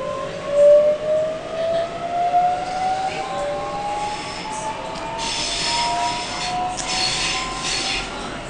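A Sydney train runs from Central toward Circular Quay, its wheels squealing in long rising, siren-like tones over a continuous rumble of the carriage, loud and close with no talking.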